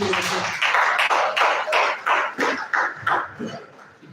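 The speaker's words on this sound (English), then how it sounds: "Round of applause for him." A conference audience at an international electrical engineering event applauds a professor with a round of clapping, dense and steady for about four seconds, tapering slightly toward the end, with no talk over it.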